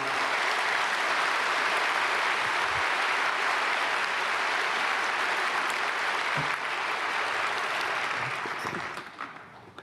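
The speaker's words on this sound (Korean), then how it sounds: "박수 한번 해야 돼요" A large congregation at a Sunday praise worship service at Myungsung Church claps in a sustained, even roar of applause that holds steady and then tapers off at the end.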